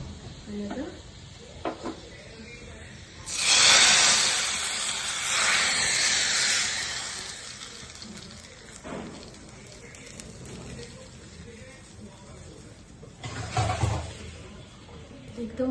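Chillies and spices for a tadka tempering crackle in hot oil, for a spicy, creamy Maharashtrian vegetarian curry: a sudden loud hissing sizzle that swells, then slowly fades, followed later by a shorter second burst, with a voice talking at times.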